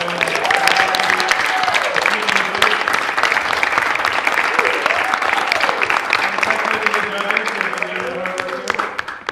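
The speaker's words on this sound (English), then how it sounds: "can everybody in this room give a big round of applause" An indoor audience at a college bowl event gives a big round of applause: steady, dense clapping throughout, with voices calling out over it.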